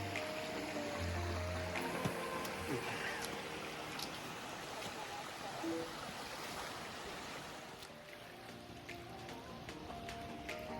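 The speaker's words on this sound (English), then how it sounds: "This is like a little river." A small river flows near a waterfall on a hiking trail, giving a soft, steady broadband rush of running water that stays fairly faint and continuous, with occasional light splashes and a few brief distant voices.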